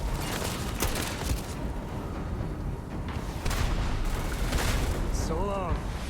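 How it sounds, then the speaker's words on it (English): Rifle fire in the Starfield video game comes through as dense, continuous combat noise with repeated booming shots and explosions. The sniper rifle's individual reports are not clearly separated from the steady battle din. "These guys are taking 2 bullets from this sniper rifle"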